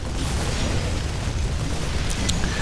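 Explosion of a turret being destroyed in StarCraft 2, a dense, steady rumbling blast sustained across the whole moment with a couple of brief crackles near the end, loud and with no talk.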